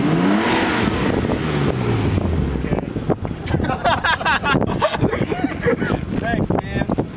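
A 30-year-old Nissan car engine revs and drones near the microphone amid wind buffeting, with people talking over it throughout.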